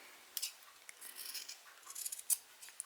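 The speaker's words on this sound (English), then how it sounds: "snip across the corner, and trim a little bit of the adjoining seam allowance" Scissors snip across the seam allowance corners of a sewn fabric Christmas tree ornament: several quiet, close, crisp cuts in an uneven rhythm, with a soft rustle of cloth between them.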